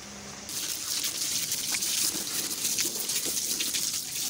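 Tap water runs in a steady, full gush while keyboard keycaps are washed, a continuous broad splashing hiss that starts abruptly after a brief quieter moment and keeps going without pause.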